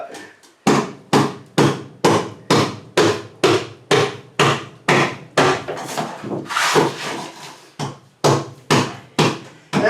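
Loud, rhythmic hammer blows on wood, roughly one strike every half second, close by, with a brief burst of rubbing and scraping midway.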